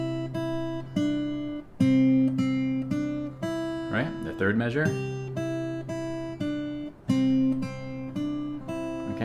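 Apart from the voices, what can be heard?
guitar played slowly with thumb on each measure's count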